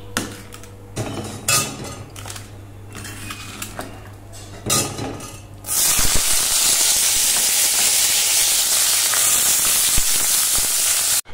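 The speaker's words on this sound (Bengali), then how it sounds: "কড়াইতে তেল দিই, গাজর বিনসটা ভাজা বসাই" Carrots and beans fry in hot oil in a wok, a loud steady sizzle bursting in midway and holding to the end, after a stretch of clattering utensils and pans.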